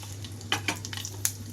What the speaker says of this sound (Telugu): వీటితో పాటుగా 2 కరివేపాకు రెమ్మలు.